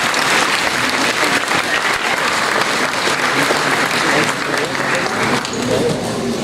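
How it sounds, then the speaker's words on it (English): Sustained applause from a concert audience at a winter music festival, dense steady clapping filling the hall at close range, held evenly for several seconds. "A round of applause for them, please, as well."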